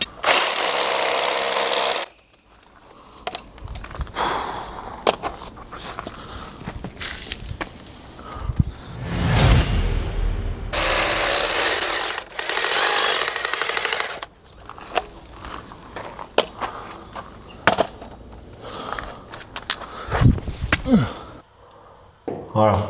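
A long drill with a one-metre bit bores through a wall while fitting an outdoor tap, loud grinding bursts starting and stopping between pauses, with someone talking in the gaps.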